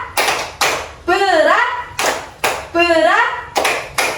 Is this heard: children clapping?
yes